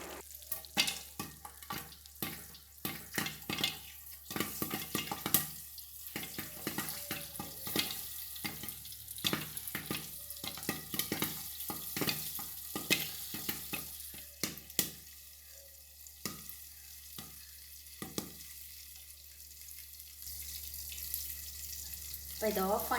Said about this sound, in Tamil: சீட்ஸ்லாம் கொஞ்சம் கொஞ்சமாக பாப்பாக ஆரம்பிக்கும்.